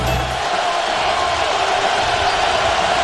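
Dense, roaring stadium crowd noise at a Nebraska Cornhuskers home football game against Virginia Tech in Lincoln, a steady loud wash of voices without distinct cheers.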